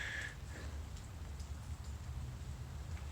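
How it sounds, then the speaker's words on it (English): Steady rain falls outdoors near a shelter as a soft, continuous low hiss of drops. It is faint and even throughout, with no talking. "the rain is picking up again, even though the clouds were supposed to have left"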